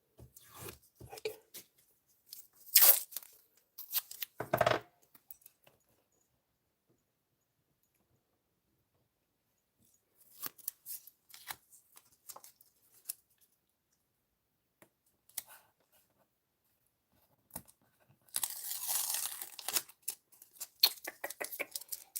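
Tape torn from a roll and pressed onto inking paper in a quiet room, heard as short scattered bursts of ripping and crinkling separated by long silences, with a longer rip near the end.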